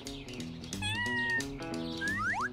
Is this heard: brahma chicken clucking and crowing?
no